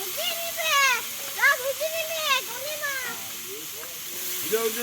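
Chopped bottle gourd sizzling in a hot pan for a Bengali village-style fish roe curry, a steady hiss running under lively voices, including a child's, that talk over it for the whole stretch.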